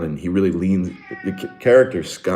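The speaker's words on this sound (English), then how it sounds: "So if you hear some meowing in the background" A cat meows in another room during a podcast-style conversation, a drawn-out, slightly plaintive call rising beneath a man's speech.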